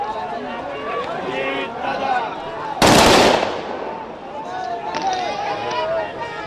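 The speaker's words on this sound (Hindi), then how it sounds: "अब गन सैल्यूट दिया जाएगा अजित पवार की पार्थिव को" A gun salute volley fired at the last rites of Ajit Pawar rings out as one loud, sharp burst, briefly overpowering the steady commentary and crowd noise around it.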